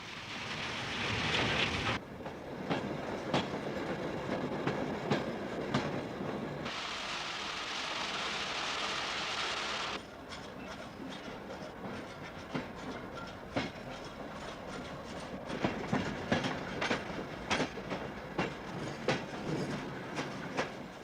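A freight train hauling crushed rock rolls along the rails with a steady rumble and clatter, and a brighter hiss swells and fades in sections. The sound is continuous, moderately distant and has no voices.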